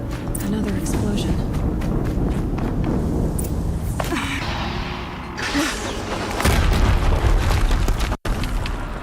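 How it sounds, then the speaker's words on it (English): Explosions in the Horizon Zero Dawn video game boom out over a dense mix of game effects and ongoing talk, with a heavier low rumble swelling near the end before a brief cut. "Another explosion."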